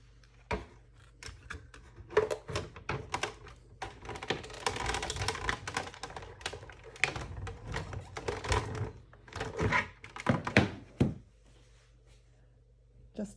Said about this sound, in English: I'll just pop that through the Cuttlebug